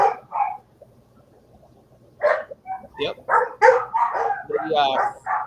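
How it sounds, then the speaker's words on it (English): Excited dogs greeting a visitor indoors give scattered barks and yips; people talk over them, more so in the second half. "The dogs want to say hello."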